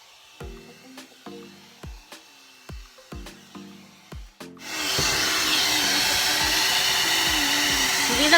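A hair dryer from a hair dryer and styler set switches on and blows steadily and loudly, preceded by a series of sharp wooden taps and clicks.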